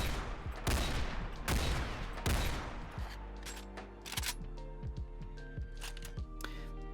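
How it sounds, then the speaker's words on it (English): Halo sniper rifle fired in a Fallout 4 mod, several loud booming shots in quick succession at the start, followed by quieter mechanical clicks and clatter of the weapon handling. "Here is the sniper rifle."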